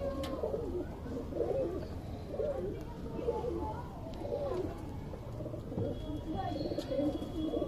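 Andhra Madrasi pigeons cooing in a loft, soft repeated low coos overlapping in a steady murmur, with a few faint chirps above and someone talking nearby.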